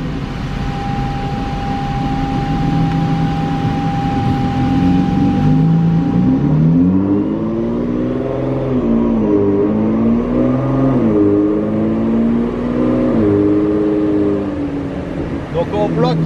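A stage 2 Nissan GTR held in fourth gear on a dyno drones loudly near 1500 rpm, then its engine note rises and falls in repeated sweeping revs before easing off near the end.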